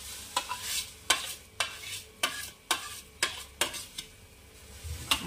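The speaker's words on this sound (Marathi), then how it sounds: "आणि छान असं फिरवत राहायचं आहे" Vermicelli stirred in boiling water in a pot, making a steady run of sharp scraping strokes, about ten evenly spaced, close and fairly loud over a soft bubbling bed, with no talk.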